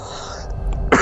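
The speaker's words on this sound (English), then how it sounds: "God, I'm coughing." A single short, rough cough bursts out near the end, close and fairly loud, over a low background hum from a game session.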